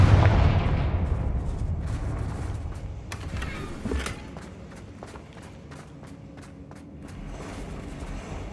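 Blasting spell explosions in a fantasy video game, with a heavy booming burst early on, then a sharp blast near the middle followed by a run of rapid crackling impacts that fade into a rumbling background.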